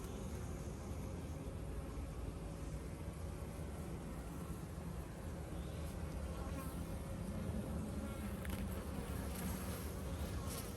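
Honeybees buzzing during a brood hive inspection at an apiary, a dense continuous low drone that stays close and steady throughout, with no speech.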